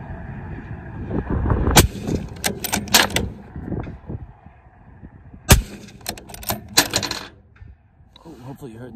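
Rifle shots fired at a downrange target, two sharp cracks several seconds apart, each followed by rattling mechanical handling noises close to the microphone.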